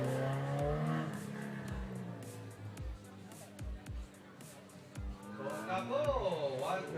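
A race car runs an autocross course at a regional championship in Davao, its engine revving and surging in bursts. The car is fairly distant, and an announcer commentates throughout.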